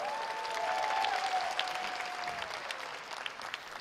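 A crowd at a political rally applauds a band, dense sustained clapping heard at a moderate distance with a faint whistling tone over it.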